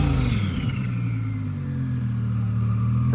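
Weistec Stage 1 twin turbo Audi R8 at an exotic car show, making around 750 to 800 wheel horsepower, gives a loud, close, sustained engine drone whose pitch dips and then holds steady, with no talk over it.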